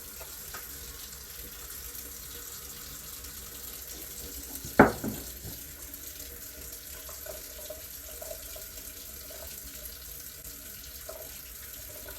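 Running tap water rinsing a dyed disc golf disc at a sink, a steady soft hiss of flow with one brief clunk partway through, fairly quiet throughout.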